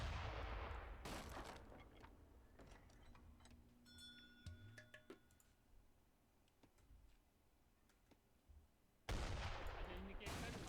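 Mortar fire in an Age of Empires 3 battle: booming, crackling bursts of fire open and close the passage, with scattered clicks and game effects in the quieter middle, all fairly faint.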